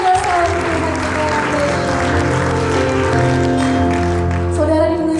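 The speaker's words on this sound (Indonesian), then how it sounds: "Dan lebih lagi kasih tepuk tangan yang luar biasa untuk Tuhan kita." Church congregation clapping during worship, a loud dense crowd of claps mixed with sustained music and voices, holding steady throughout.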